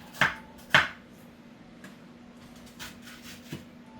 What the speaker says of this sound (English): So just going to chop up some onion real quick.